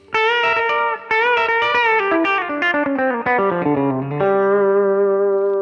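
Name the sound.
guitar chromatic walk-down lick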